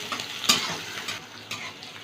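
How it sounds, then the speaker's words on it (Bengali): Chopped onion frying in oil in a pan for ghugni, a soft continuous sizzle with two sharp utensil scrapes from stirring, close and without talk. "পেঁয়াজটা একটু ভেজে নেব"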